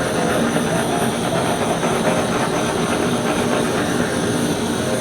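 A kitchen blowtorch searing an udon curry dish, a steady roaring hiss of the flame that holds at an even, fairly loud level without pause.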